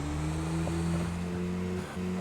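A vehicle engine in the fishing video game Call of the Wild: The Angler drones with a steady low hum and tonal whine that shifts pitch slightly as it drives.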